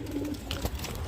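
Pigeons settling inside a coop, a few soft low coos close by and faint against a quiet background, with no one speaking.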